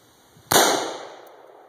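One sharp, close gunshot cracks out at a target and decays quickly into a short echo after a quiet lead-in.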